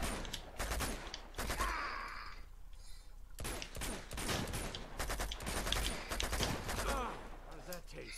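Uncharted 2 combat gunfire: repeated sharp shots in uneven bursts with a short lull, over game ambience and intermittent talk.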